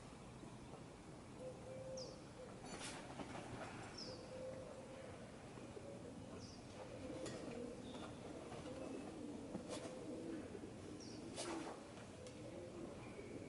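Pigeons or doves cooing outdoors, soft repeated low coos at a moderate distance over steady background hiss, with a few faint higher chirps from other birds.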